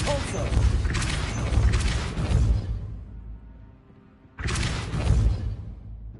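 Depulso spell blasts cast in a Hogwarts video game: a forceful whooshing burst that booms and rumbles for a couple of seconds, drops into a quiet gap, then a second heavy blast hits just as hard.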